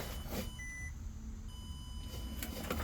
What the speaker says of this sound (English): Hear that beep?